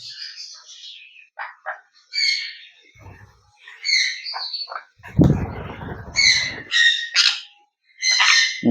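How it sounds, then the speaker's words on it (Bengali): Sun conure parrots screech in sharp, piercing bursts, repeated close and loud in irregular bouts, with a short rustling thump midway. "ওই আর চিল্লাতে শুরু করেছে"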